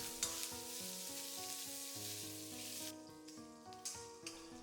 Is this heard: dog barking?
no